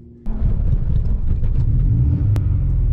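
An Audi's engine bursts into a loud, deep rumbling rev, then holds a steady growling idle with throttle kept open, close by and alone.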